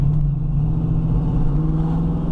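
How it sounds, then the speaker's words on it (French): A 1970 Ford Mustang coupe with an automatic gearbox pulls under acceleration as it downshifts, with a loud, steady low engine drone and rumble heard from inside the car throughout. "quand on accélère, on sent qu'elle rétrograde automatiquement"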